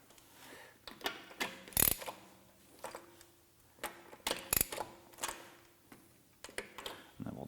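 Lug nuts on a Macht Schnell wheel being run down in a star pattern onto newly installed wheel studs, heard as quiet bursts of ratcheting clicks and a couple of sharper metallic clacks, spaced irregularly with pauses between nuts.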